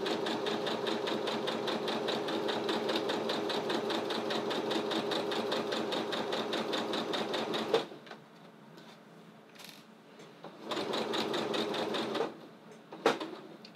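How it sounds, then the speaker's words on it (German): A sewing machine runs a straight seam on fabric, a fast, even mechanical chatter for several seconds that then stops, leaving short bursts of stitching and handling noise. "Und beginnst dann mit der geraden Naht, um eben diese Tasche festzunähen."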